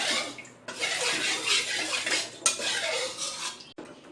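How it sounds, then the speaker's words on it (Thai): Water used to wash a frying pan pours and splashes steadily into a metal pot, with a brief clink of cookware partway through and another near the end. "เนี่ยน้ำล้างกระทะแล้วก็เทใส่หม้อนะคะ"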